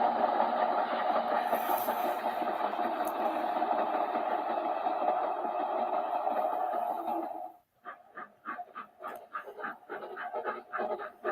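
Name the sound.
model railway train coming out of a tunnel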